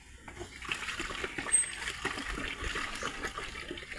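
Water splashes and trickles in uneven bursts as a fish pond is bailed out, scooped and dumped repeatedly, with faint voices in the background.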